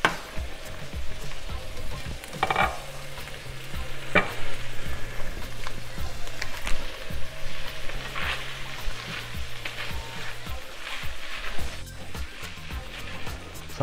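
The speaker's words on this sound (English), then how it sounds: "So I'm just combining the ground beef and the sausage together right now." Ground beef and sausage fry together in a big skillet for chili, a steady close sizzle with scraping stirs and occasional clunks of a utensil against the pan.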